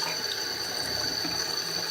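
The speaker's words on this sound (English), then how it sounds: "I set the phone up too close to the water." Water pours steadily from a washroom tap in a constant, close hiss that fills the whole stretch with no pauses and no voices.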